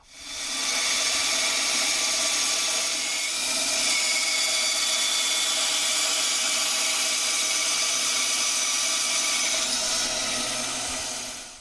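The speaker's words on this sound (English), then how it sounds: "Then we're going to put them together, and we'll chop them with the chop saw." A chop saw cuts wooden parts for a fine-furniture rocking chair, producing a loud, steady whirring cut that runs nearly the whole time after a quick spin-up, then winds down at the end.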